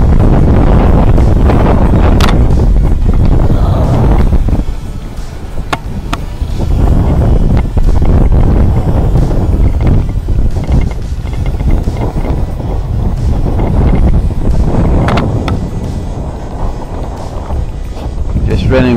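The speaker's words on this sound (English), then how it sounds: "It's blowing 30 knots from the east" A strong 30-knot easterly gale at sea off Menorca, aboard a sailboat running under a tiny jib: loud roaring gusts buffet the microphone over rushing water, with a voice talking throughout.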